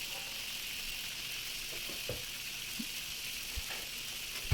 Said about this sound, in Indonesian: kemudian ini saya akan goreng tomat